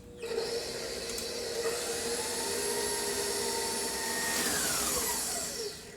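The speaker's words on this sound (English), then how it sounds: "I'm just doing it in a stand mixer because it makes it a little easier." A stand mixer with a paddle runs continuously, mixing gluten-free pizza dough, giving a close, steady motor whine with a slight pitch shift near the end.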